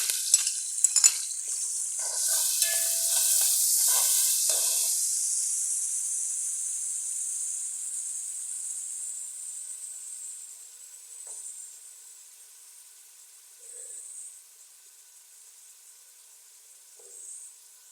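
Finely chopped onions hit hot oil with a loud, bright sizzling burst that slowly fades into a softer, lingering hiss, with a few brief flares of crackle near the end.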